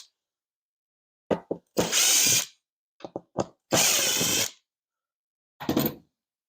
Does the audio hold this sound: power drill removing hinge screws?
yes